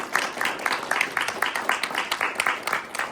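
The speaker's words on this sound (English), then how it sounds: "Round of applause for both of them and all of" A small audience at a governors' proclamation signing on ending veteran suicide claps in a steady, even patter of close, moderately loud hand claps that lasts a few seconds with no talking.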